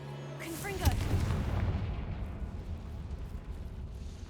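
Confringo spell explosion in the video game Hogwarts Legacy: a deep, loud boom bursts out just under a second in, then rumbles and crackles as it slowly decays, following a spoken word at the start.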